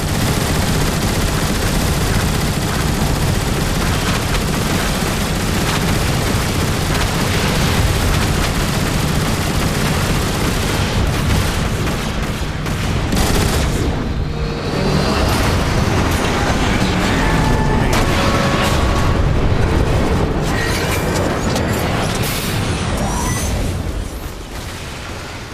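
Dense gunfire and booming explosions from an Autobots-versus-Decepticon-warship battle in a Transformers action video game, a loud, relentless barrage of rapid shots and blasts that continues unbroken for the whole stretch before easing slightly at the end.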